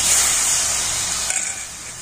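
Milk ladled into hot caramelized sugar in a wok, giving a loud steady hiss and sizzle that eases slightly toward the end, with no voices.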